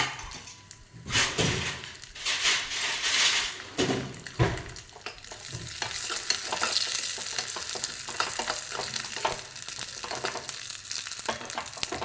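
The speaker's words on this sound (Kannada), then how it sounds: "ಜಾಸ್ತಿ ಹುರ್ಕೋಬಾರ್ದು, ಲೈಟಾಗಿ ಹುರ್ಕೋಬೇಕು." Grated carrot lightly roasting in a pan, a soft, continuous sizzle mixed with scraping stir strokes and a few louder clatters, close by and fairly quiet, with no talk.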